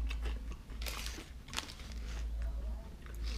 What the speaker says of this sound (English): So these are like the French's kind of onion fried chunks.